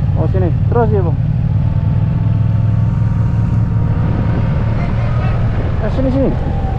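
A motorcycle engine drones steadily up close while riding toward the Thailand border crossing, with brief voices and a few faint high tones over it.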